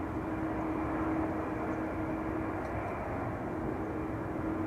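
A KLM airliner taxis toward runway 24 at Schiphol Airport, giving off a steady, continuous engine roar with a low hum that stays even and fairly distant throughout, with no voices over it.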